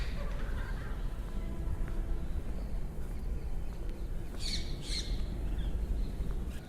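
Parrots in the garden of Deeg Palace in Bharatpur, Rajasthan, give a couple of brief, sharp squawks in quick succession, moderately distant over a steady, noisy outdoor ambience.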